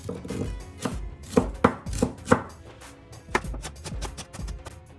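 A knife chops a red bell pepper finely on a cutting board, with sharp, uneven thuds repeating at a brisk pace, close and clear, with no talking.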